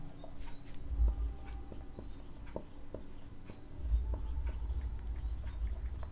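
Pen writing notes on paper, a quiet scratching with short strokes and taps spread unevenly, faint and close, with low room rumble underneath and no talking.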